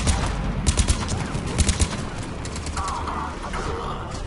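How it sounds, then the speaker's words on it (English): Gunfire from the shooter game Mass Effect 3 sprays bullets in rapid, scattered bursts of short cracks over a dense, busy battle background, moderately loud and continuous. "Listen to the spraying of bullets everywhere."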